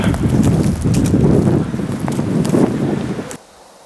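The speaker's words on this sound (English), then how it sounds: "It's super windy" Strong wind buffets the microphone in loud, rumbling gusts at a camp in Lincoln National Forest, then cuts off abruptly near the end.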